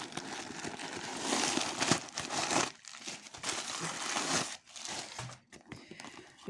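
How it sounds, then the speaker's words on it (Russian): Packing paper is pulled out of a new handbag, crinkling and rustling loudly up close in irregular bursts with short pauses between. "Вытаскиваем бумагу."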